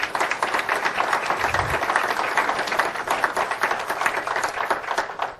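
Sustained audience applause at an evening cocktail reception, a dense crowd of hands clapping steadily and fairly loud throughout, with no pause.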